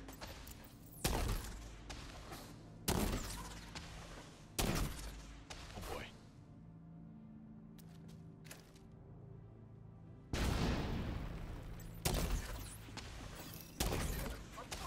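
A big mounted gun in a video game fires in loud, separate bursts of heavy rapid shots with quieter mechanical gaps between them, close and powerful.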